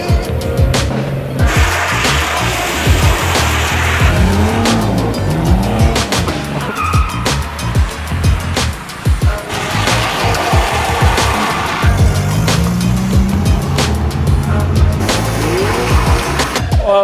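Car tires squeal and skid loudly and continuously at a drift event at Mt Cotton with a car club, with engines roaring close by as cars slide through corners.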